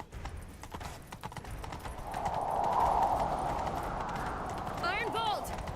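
Horses gallop in The Witcher 3: Wild Hunt, hooves clip-clopping in a fast rhythm under a rising rush of movement, and a horse whinnies near the end.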